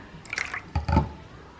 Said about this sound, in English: 1 teaspoon of vinegar,